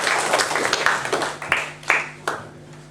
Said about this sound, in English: everyone will give you a round of applause as you go back to your seat